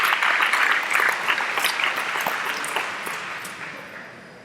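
Audience applause at a state youth program closing ceremony, honoring volunteers: steady broadband clapping that starts full and gradually fades over several seconds, with scattered sharper claps standing out.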